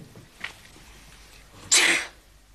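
A single loud sneeze bursts out indoors at a bedtime scene, preceded by a faint short sound, with otherwise quiet surroundings.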